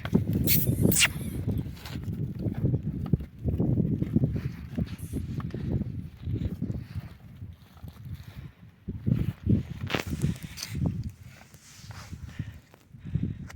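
Working forest horses' hooves clip-clopping in an uneven walking rhythm, close by, with scattered thuds and rustles and no clear talk.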